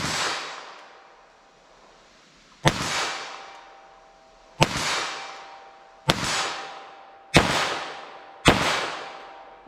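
Six sharp gunshots from a .22 rimfire handgun at target practice, comparing .22 LR Stinger and .22 WMR Max-Mag rounds, each crack loud and close with a ringing decay, fired at irregular intervals of about two seconds after an opening shot.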